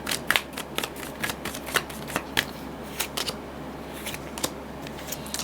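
Tarot cards are shuffled and drawn close by, with a quick series of crisp papery slaps and riffles in irregular bursts over a faint steady background hum, and no voices.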